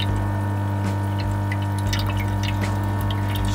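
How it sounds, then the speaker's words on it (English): Warm water taken from a cichlid aquarium pours steadily into a container, a continuous close splashing trickle over a low constant hum, with no talking. "So the first thing that you need to do is actually fill it up to the line with warm water."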